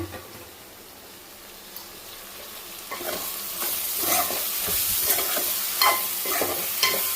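Drumstick dal curry stirred in a pan as it simmers, soft sizzling under repeated scraping, wet stirring strokes that grow louder and more frequent toward the end, no talking.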